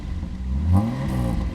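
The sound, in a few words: Mercedes W108 engine revving, exhaust rasp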